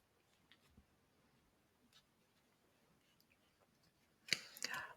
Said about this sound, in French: je vais essayer de vous faire la coupe pour voir ce que nous dit le tarot